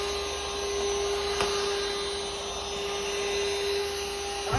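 An Aposen cordless vacuum cleaner running indoors in an apartment, a steady close motor whine with a constant high tone and airy suction hiss, with a brief clunk partway through.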